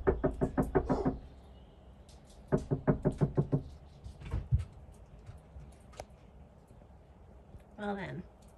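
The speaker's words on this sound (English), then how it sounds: "Stop knocking." Sharp knocking in quick bursts of five or six taps, then isolated single knocks, close by, with a bird call briefly near the end.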